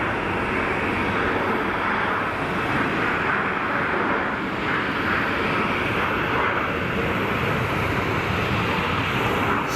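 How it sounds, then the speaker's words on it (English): Jet engine roar from an Air Dolomiti Embraer 195 regional jet departing Geneva Airport, a loud, steady, broadband rumble and hiss lasting the whole stretch with no talk over it. "Intersection departure for the Air Dolomiti"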